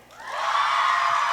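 The crowd at a Scottish youth poetry slam final rises fast into a loud wall of cheers, shouts and clapping, holding steady at full volume without a clear voice standing out.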